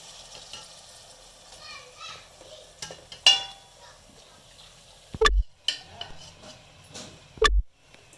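Ginger garlic paste, small onions, green chillies and tomatoes sizzle in a pan for a country chicken curry, a soft steady fry broken by a few sharp clanks of a utensil against the pan.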